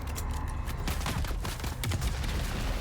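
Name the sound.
enemies firing guns in the video game Dune Awakening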